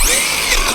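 A Tekno MT410 2.0 1/10 RC monster truck's electric motor gives a brief, loud, high-pitched whine as it flips itself upright on rocky ground.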